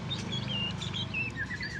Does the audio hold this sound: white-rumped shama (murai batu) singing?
yes